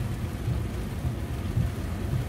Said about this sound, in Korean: 비가 너무 하늘이 뚫린 것 같처럼 비가 와요.